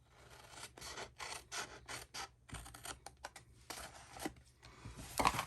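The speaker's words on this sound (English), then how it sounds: "I'm going to cut off this flap here." Scissors cut a flap off a paper doughnut box in a papercraft project, making rapid rasping snips and paper rustles up close, fairly quiet throughout.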